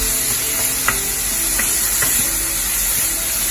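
Shrimp stir-frying quickly in hot oil in a wok for shrimp fried rice: a steady, loud sizzle and hiss with a few faint clicks of a spatula, no voices.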